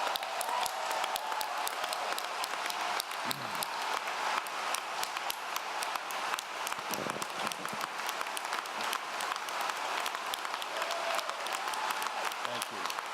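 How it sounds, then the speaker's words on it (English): An audience applauds educators at a West Virginia education association address, with dense, sustained clapping from a large crowd that fills the whole stretch at an even, lively level. "I would ask for one round of applause for the educators of West Virginia."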